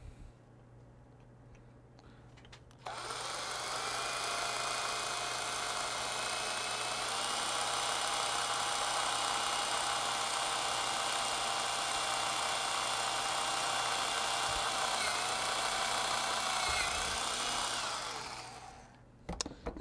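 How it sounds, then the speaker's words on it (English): A drill bores a 1/8 inch hole in a Lionel smoke unit part clamped in a vise, starting abruptly and running as a steady whining hum for about fifteen seconds before stopping. "I've tried several different diameter holes, and it seems that 1/8 works out just about right."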